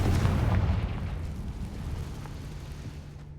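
A Confringo blasting spell detonates in a Harry Potter video game, a loud explosive boom at the start that rolls off into a long, rumbling decay.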